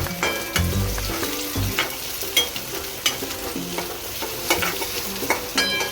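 Chillies frying in a pan of oil on low heat, a steady crackling sizzle broken by repeated sharp spoon-against-pan clinks and stirring scrapes, close and without talk.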